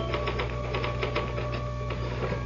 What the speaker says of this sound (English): Can I use the typewriter for a moment?